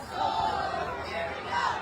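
A high school playoff football crowd yells and cheers from the stands, a dense roar of distant voices that rises briefly near the end.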